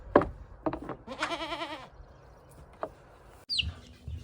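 A goat gives a few short bleats, then a longer wavering bleat, with other scattered animal calls and quiet yard sounds around it.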